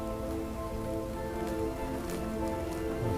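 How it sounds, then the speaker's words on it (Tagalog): Rain falls on a rural farm in a steady, soft patter of drops on surfaces, with a few sharper taps and a faint tonal hum beneath. "Napakahirap naman magtrabaho kasi pag umuulan"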